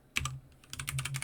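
Close keystrokes on a computer keyboard during a coding session: a couple of quick taps, a short pause, then a busier run of typing.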